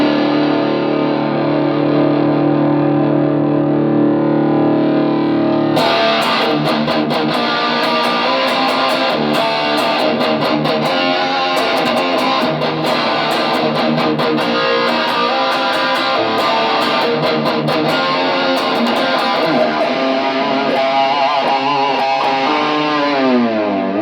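Heavily distorted PRS electric guitar rings out loud and sustained, a held chord giving way to fast, gritty riffing that keeps going without pause.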